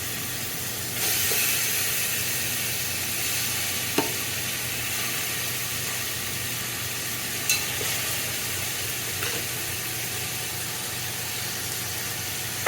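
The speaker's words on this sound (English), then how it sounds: "we're just going to go ahead and brown off the chicken in the frying pan" Chicken pieces sear in a frying pan for brown stew, giving a steady continuous sizzle and hiss with a few faint clinks, no voices.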